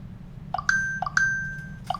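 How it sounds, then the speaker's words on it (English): Quick phone notification dings, three bright chimes in about two seconds, each a short rising two-tone blip with a sustained ringing tail, clear over a quiet low background hum. "Somebody just blew up my phone."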